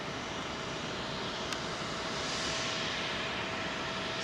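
Virgin Airbus A330 jet taxiing at London Heathrow, crossing the runway, giving a steady, fairly distant engine drone with a thin whine throughout and one brief faint click, no voices.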